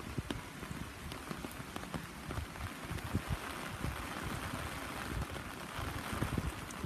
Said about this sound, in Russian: Такой сегодня дождик у нас идет.